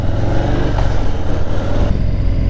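Harley-Davidson Low Rider S motorcycle with its 114 engine, revving in a steady, loud, close rumble that holds throughout with no one speaking.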